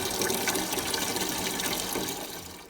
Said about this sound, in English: I just make sure I get everything rinsed really, really well.